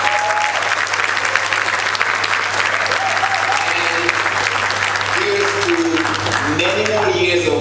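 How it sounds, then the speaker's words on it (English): Loud, continuous audience applause at an anniversary celebration event, thick and steady with cheers and whoops, voices calling out under the clapping, and a low hum beneath. "Give it up for yourself."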